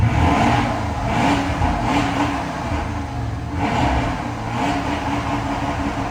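A 2006 Porsche Cayenne Turbo S engine revving in sport mode, a loud, continuous engine roar that swells and eases in a few waves, heard from close by with no talk.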